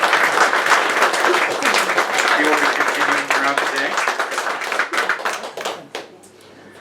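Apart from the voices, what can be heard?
audience applause for Verona Ryan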